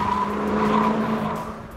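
A Maserati Levante SUV cornering hard in Corsa mode, with a loud engine drone and a sustained tire note as it powers out of the bend, heard close from inside the car.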